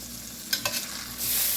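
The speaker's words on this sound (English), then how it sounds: "we're going to go back over here and move the sausage around." Sausage being stirred and shifted on a hot griddle at a street-food fair stall, with two brief scraping bursts followed by a steady, close sizzle.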